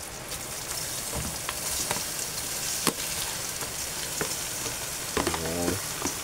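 Sliced pork for dinuguan mixed into a hot pan with bay leaf, a dense steady sizzle broken by several scraping stirs and a short clattering burst late on, without talk.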